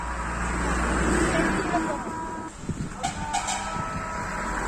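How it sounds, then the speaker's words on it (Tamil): A bus rumbles past on a road amid steady traffic noise, loud and close, followed by a few thumps as it goes by. "பஸ் போகுது பார்த்துக்கோங்க"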